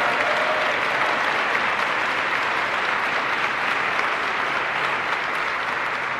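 An audience at a military base event for the Secretary of the Air Force applauds in a steady, dense wash of clapping that holds at full strength throughout, with no voices over it.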